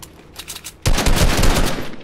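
Video game gunfire erupts abruptly at close range, a dense loud burst of rapid automatic shots sustained for over a second after a quieter lead-in.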